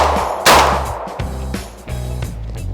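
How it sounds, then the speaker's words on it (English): A single loud shotgun blast goes off during a grouse hunt outdoors, with a sharp crack and a long fading tail, followed by rustling and thumps nearby. "The second shot was pretty close."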